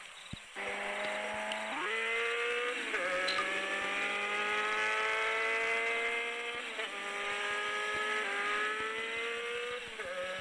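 A motorbike rides along a road, its engine droning steadily with rising and falling pitch as it shifts and accelerates, loud and close throughout with no talk.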